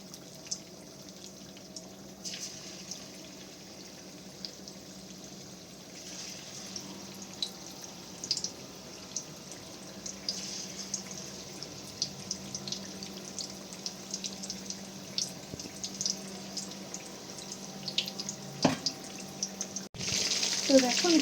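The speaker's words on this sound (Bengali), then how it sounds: "এবার আমি এক এক করে এখানে চিকেনগুলো ফ্রাই করে নেব।" Chicken pieces fry in hot oil for chili chicken, giving a steady hissing sizzle throughout with scattered crackles and pops, fairly quiet, with a brief louder clatter near the end.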